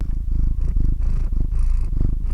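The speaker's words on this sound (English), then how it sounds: "Let's do some cat ASMR." A cat purring right against the microphone, loud and close, with a steady rhythmic rumble that pulses with each breath in and out, no talking.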